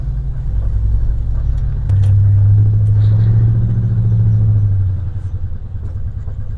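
A 1950 Cadillac hearse engine rumbles low and steady while driving, its tone swelling louder in the middle with a faint rhythmic knock beneath the drone.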